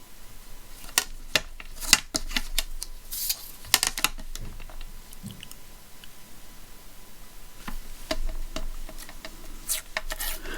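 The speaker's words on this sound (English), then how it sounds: "let's just cut this off widthwise." Scissors cut paper widthwise while making a mini journal, heard as a scattered series of sharp snips and clicks, close and fairly quiet, with pauses between cuts and no talk.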